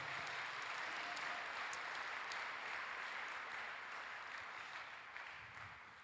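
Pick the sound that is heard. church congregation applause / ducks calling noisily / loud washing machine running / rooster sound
church congregation applause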